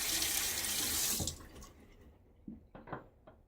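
Tap water running into a sink for rinsing during a wet shave with a safety razor, a steady close splashing stream that cuts off after about a second, followed by a few light drips and handling knocks.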